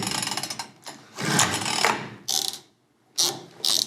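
A tiny jet boat engine is pull-started: several short, sharp bursts of ratcheting recoil-cord rattle, close up, separated by brief pauses, without the engine catching and with no speech.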